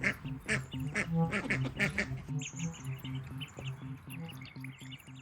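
Farm ducks quacking close by, a run of loud, rhythmic quacks from several birds that overlaps at first and then settles into a steadier pattern.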